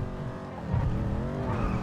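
Ford Mustang in GTA V racing at speed, a steady loud engine drone with rising harmonic pitch sweeps as it accelerates, continuous and close throughout.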